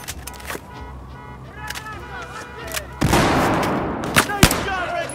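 Battlefield 4 campaign combat with scattered sharp gunshots and a heavy blast that sets off a sustained roar of fire, with voices shouting over the battle.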